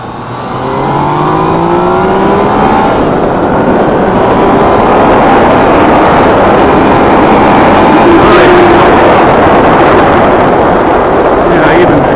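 A 2018 Yamaha XSR900 motorcycle engine pulls hard under throttle, its rising drone loud and close over heavy wind rush, sustained through the whole clip.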